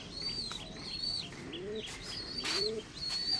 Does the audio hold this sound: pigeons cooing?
yes